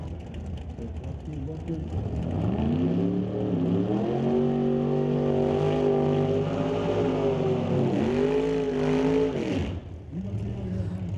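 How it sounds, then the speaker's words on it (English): A 1970 Hemi-powered Plymouth Duster and a 1967 Shelby do drag-strip burnouts, heard as a loud sustained engine roar that climbs and falls in pitch, with an announcer talking over it. "So big smoky burnout there from Lane Woolley over in the Lordco Lane"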